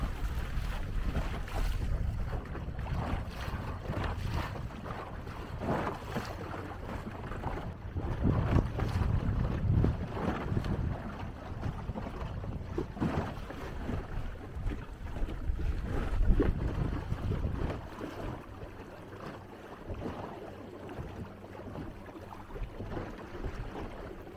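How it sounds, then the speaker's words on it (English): Steady wind of about 5-6 knots buffets a small sailboat at anchor on the Mar Menor, a continuous rumbling rush with gusts swelling and easing, close to the microphone and with no voices. "there's a bit more wind this afternoon, not a huge amount, but there is some wind"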